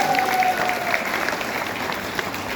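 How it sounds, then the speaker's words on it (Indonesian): A village audience at an agricultural visit by the Purbalingga regent claps together in a steady, moderately loud round of applause, with a faint tone lingering early on. "Tepuk tangan, teman-teman"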